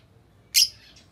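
A pet lovebird gives a single sharp, high chirp, close and fairly loud against quiet indoor background.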